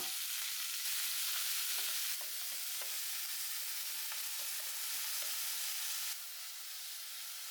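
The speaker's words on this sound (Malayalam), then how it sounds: "കേബേജ് നുറുക്കി അത് ഒക്കെ കഴുകിയെടുത്താണ് അത് നമുക്ക് ഇതാ നേരെ ഇതിലിട്ടിട്ട് ഇനി ഒന്ന് വഴച്ചെടുക്കണം" Washed, chopped cabbage sautés in a pan for thoran, with a constant bright hiss of frying and soft intermittent stirring taps, loud and near with no voices.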